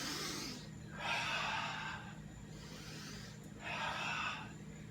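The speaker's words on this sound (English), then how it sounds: "Breathe deep, audibly, so you can be heard across the room breathing." Deep, audible breaths in a slow rhythm, with clear airy inhales and exhales, close and steady with no talking.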